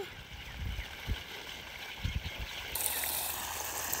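Irrigation water runs while rain falls, making a steady, hissing wash of flowing water. A few louder splashy gurgles break in, and the rushing grows a little stronger toward the end.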